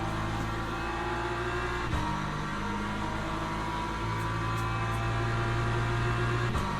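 Race car engines in the Le Mans Ultimate racing game, including an LMP2 prototype, give a steady loud drone with gear-shift breaks and shifting pitch, heard alone without talk.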